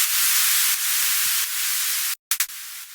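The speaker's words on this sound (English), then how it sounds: "It's just a white noise. Let's hear it without any processing." Raw, unprocessed white noise from a synth patch: a loud, flat hiss that runs steadily, drops out abruptly for a moment near the end, then returns in short bursts.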